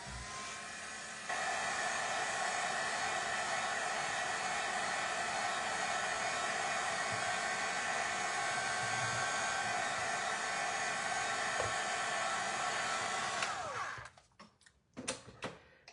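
Hair dryer blowing on artwork, a loud continuous whirring roar that starts after a moment, holds steady for about twelve seconds, then cuts off, followed by a few handling knocks.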